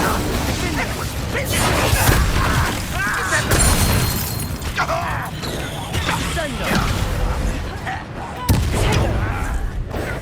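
Fiery spell blasts from the Confringo and Incendio spells in the video game Hogwarts Legacy, a dense barrage of booming, crackling bursts over a continuous loud battle din.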